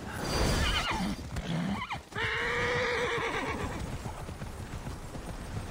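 A horse whinnies loudly while hooves clop steadily underneath, followed by continued rhythmic hoofbeats in the video game Immortals Fenyx Rising.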